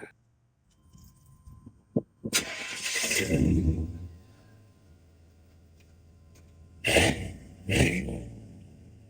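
The V8 engine of a 1990 Chevy Suburban cranks and catches with a burst, settles into a low idle, then revs briefly twice before easing back down.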